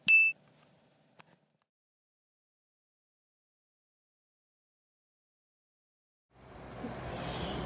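A single bright notification-bell ding rings out sharply at the start, followed by a faint click, several seconds of silence, then a rising noisy background near the end.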